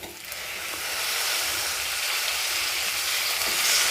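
Raw banana pieces hit hot oil with turmeric for vazhaikkaai palipalayam, a steady bright sizzle that swells early and then holds loud and even throughout.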